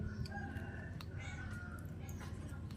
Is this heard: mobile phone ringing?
no